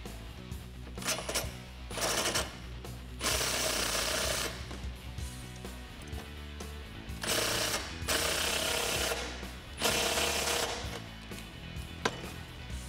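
A bolt joining two side-step brackets on a 2018 four-door Jeep Wrangler JL being tightened with a 17mm socket and wrench, with close rapid ratcheting bursts and clicks repeating between brief pauses.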